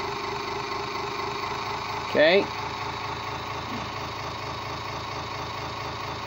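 Engine of a home-made power plant charging 24-volt batteries, idling with a steady, rhythmic mechanical chug; someone says a single brief word partway through.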